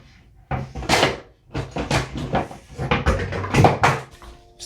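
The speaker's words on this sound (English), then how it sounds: "Just knocking everything over." Objects clatter and get knocked over while someone rummages through a cupboard, a string of close bumps and thuds of varying loudness.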